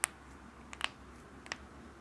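A person imitates knuckles crunching, giving three sharp, quick cracks spaced about a second apart, close and fairly quiet, alone against a low background hiss.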